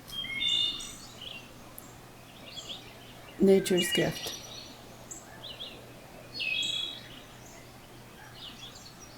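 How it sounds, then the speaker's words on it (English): Birds chirp in short, repeated bursts against quiet outdoor ambience, and a voice speaks briefly. "And listen to the birds singing."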